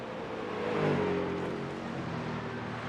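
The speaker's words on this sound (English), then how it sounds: "That is the Mustang. Yeah, it's a great sounding car." A Ford Mustang race car engine roars at a distance on a road course, its revving pitch rising and falling as it passes, loud and continuous without any voices.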